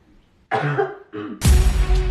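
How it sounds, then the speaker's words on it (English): Close, loud coughing: a couple of throaty coughs followed by a harsher, heavier burst of coughing that runs to the end. "Did you just cough?"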